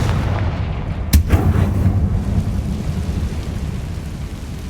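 A Confringo fire spell explodes in Hogwarts Legacy, a single sharp, loud blast followed by a rumbling tail over steady low ambient noise, no talk.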